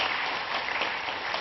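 A church congregation claps together to welcome newcomers, a dense, even round of applause filling the hall throughout.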